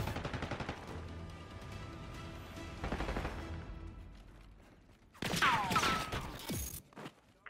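Gunfire in Black Ops 6 multiplayer, several fairly quiet bursts of rapid shots in clusters, then a louder, brighter stretch of overlapping fire and impacts near the end.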